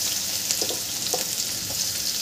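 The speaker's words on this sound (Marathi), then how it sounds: "इथे कांदा घालून घ्यायचा आहे" Chopped onion frying in hot oil in a pan with ginger and garlic for street-style veg fried rice, giving a steady, even sizzle with a few soft stirring taps, close and moderately loud, with no talking.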